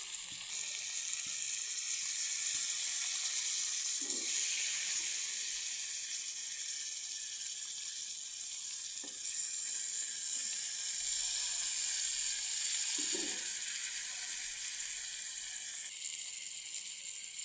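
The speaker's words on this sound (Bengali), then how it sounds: "আবার একটু সময় নিয়ে ভাজতে হবে" Leafy greens fry in a pan with a steady, soft sizzle and hiss that holds for the whole stretch, joined by a few faint stirring clinks, quiet and close with no talking.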